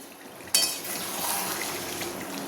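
Mutton stirred in a pot right after whisked sour yogurt goes in, a sudden scrape and clatter of a spoon followed by a continuous wet sizzle and shuffling, close by.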